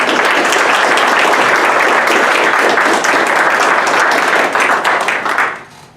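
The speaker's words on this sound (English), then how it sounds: "So let's give our first responders a round of applause." A council meeting audience gives first responders a dense round of applause, loud and sustained for several seconds before tapering off quickly at the end.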